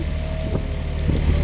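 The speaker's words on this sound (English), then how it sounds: "My fans work on high" School bus heater fans blowing on high, a steady broadband whoosh with a low engine hum beneath and a few faint clicks.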